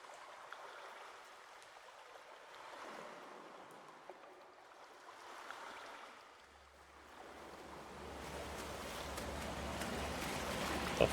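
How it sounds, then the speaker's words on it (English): Water sloshes and churns as a character wades through it in Call of Cthulhu, a low swirling wash that swells louder and rougher toward the end, with no voices. "I gotta wade through the water."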